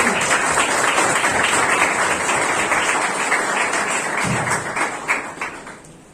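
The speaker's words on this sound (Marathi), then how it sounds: "चला आपण टाळ्या येशूचं स्वागत करूया" A church congregation claps hands together at a Sunday service, a loud, dense, sustained patter of many hands that stays steady for several seconds before thinning and fading toward the end.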